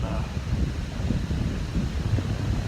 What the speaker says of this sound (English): if you can hear that, it's windy